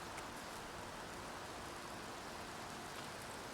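Rain falling outdoors in a cemetery at night, a steady, even hiss of drops that stays constant throughout, with no voices.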